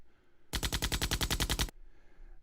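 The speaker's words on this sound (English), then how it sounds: "So, laser shots, machine guns," A library sound effect of a machine gun fires one loud, rapid burst of about a dozen evenly spaced shots lasting just over a second, set against near silence on either side.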